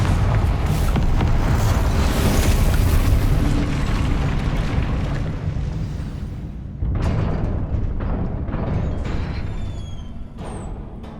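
Repeated Confringo fire-spell explosions in Hogwarts Legacy, loud booming blasts rolling into one another over a dense rumbling roar, with a brief dip before a fresh burst and faint high whistles near the end.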